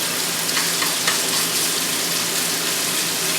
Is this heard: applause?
no